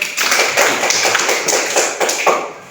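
A classroom of students applauding a classmate who stands to read, brisk continuous clapping, close and fairly loud, with no talk over it.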